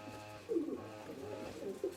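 Soft, low cooing from an old breeding hen pigeon in a few short murmured phrases, fairly close, with faint background hum.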